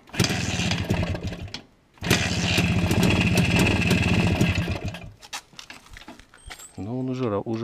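A 1970 Minsk M105 motorcycle engine putters and revs unevenly nearby, pausing briefly then running again with rough popping, before fading into handling noises and a short voice-like tone at the end.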